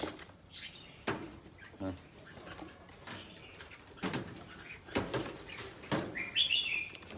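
Songbirds give a few faint, brief chirps scattered among rustling, shuffling noise, with one clearer higher call near the end.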